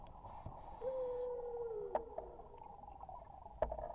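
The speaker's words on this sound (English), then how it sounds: "Then I heard another whale's call, and another." A whale call in an underwater sleep-story soundscape, one long drawn-out moaning tone that slowly glides downward, faint and distant over a soft watery hush with a few light clicks.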